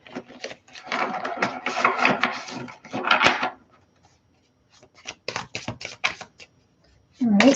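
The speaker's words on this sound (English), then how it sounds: "going to try a very gentle shuffle this way" A deck of cards is gently shuffled, producing bursts of soft riffling and flicking clatter, close and clear, with a pause in the middle and no talking.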